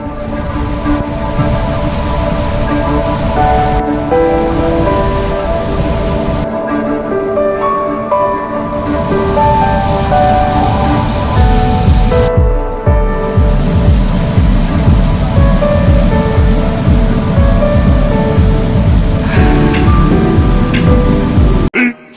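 A river on the Tarak Ridge hiking trail in Mariveles, Bataan rushes loudly and continuously, a dense roar close by with brief shifts in texture as the listener moves along.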